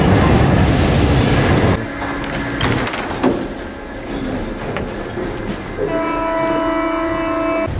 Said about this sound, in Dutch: We zitten weer in de tram onderweg naar het Louvre.